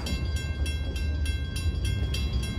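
A CSX freight train led by locomotive 8137, originally built for the Louisville and Nashville in 1981, rolls past in northern Ohio, giving a steady low rumble with evenly spaced rhythmic clacks of wheels over rail joints.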